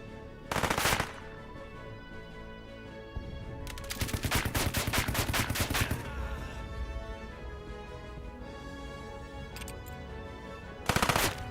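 Bursts of machine-gun and rifle fire from the turn-based strategy game Headquarters: Cold War, a loud burst at the start, a longer stretch of rapid fire in the middle, and a final short burst at the end, with no talking.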